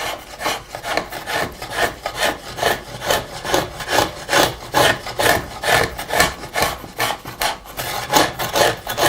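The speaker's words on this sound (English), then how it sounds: "a bit of old hacksaw blade or bandsaw blade clamped between them, and that's used to scratch a mould or a groove" A scratch stock fitted with a piece of old hacksaw blade cutting a groove into cheap pine, loud rhythmic rasping strokes back and forth, about two per second, close and steady with no talk.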